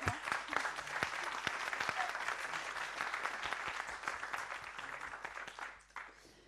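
Sustained applause from a crowd at a startup incubator demo day in Île-de-France, steady and dense, fading out near the end.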